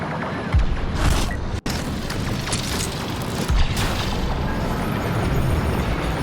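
An AT-TE walker blows up in Star Wars Battlefront II, a dense, sustained rumbling blast with layered booms and debris noise that fills the whole stretch loudly, no voices.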